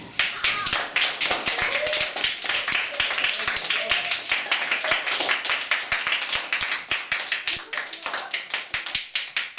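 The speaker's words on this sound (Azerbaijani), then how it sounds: "Uşaqlar, gəlin, gəlin Davuda bir moral alqışı verək." A group of schoolchildren claps in a fast, sharp, uneven patter of many hands, close and bright, sustained for several seconds with a faint voice underneath.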